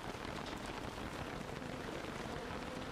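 Rain in the video game Don't Starve Reign of Giants, a dense, steady hiss of rainfall across the whole stretch, constant and even with no voice over it.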